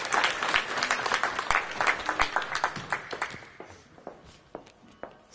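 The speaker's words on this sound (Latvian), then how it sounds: "Aplausus Santai." An audience claps for a contestant at a talent show, a warm burst of applause that swells and then thins out into scattered individual claps before fading.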